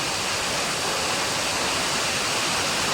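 Water pours steadily from a waterfall near the Ahobilam temple in the Nallamala forest of the Eastern Ghats, a loud, unbroken rushing roar with no pauses.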